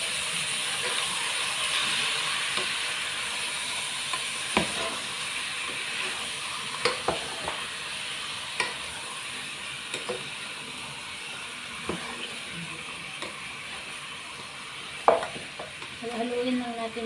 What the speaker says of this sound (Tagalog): Tapos, haluin natin.